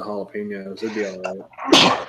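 A single sharp sneeze bursts out at the end, right after a person talks casually about growing jalapeños and shishito peppers.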